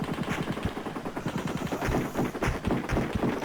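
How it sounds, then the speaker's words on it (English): Rapid bursts of helicopter cannon fire from the Amiga game Desert Strike, a thin, tinny chatter of repeated shots that runs steadily and loudly for the whole stretch with no voices over it. "This is the cannon, which looks and sounds very pathetic."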